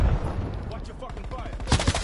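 Rapid automatic gunfire in a Call of Duty match, a short burst of close, cracking shots that swells louder near the end, with a voice faintly present underneath.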